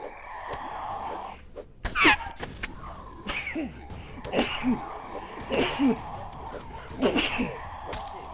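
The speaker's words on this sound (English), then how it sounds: "I just sneezed all over the mic." A person sneezes close into a microphone while playing a game, several sharp bursts and breathy sounds scattered across a few seconds with some muffled voice sounds between them.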